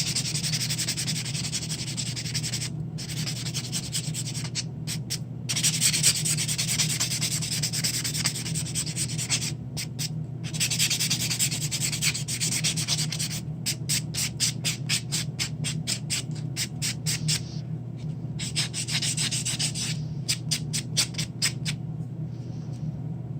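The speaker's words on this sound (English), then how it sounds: "With a buffer block to smooth out any scratches." A buffer block is rubbed over a fake nail in repeated quick, rasping strokes that come in bursts separated by short pauses. The scrubbing stays close and steady throughout.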